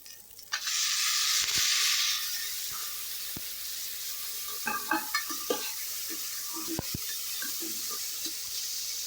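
Chopped tomatoes drop into a pan of frying onions and fennel, causing a loud burst of sizzling that settles into a softer hiss punctuated by the clacks and scrapes of a stirring spoon.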